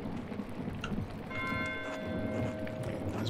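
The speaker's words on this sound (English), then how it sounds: "Why is Mateo ringing the bell?" Monastery bell struck repeatedly in the video game Pentiment, ringing tones sustained over a dense noisy background of rain-like wash and low rumble.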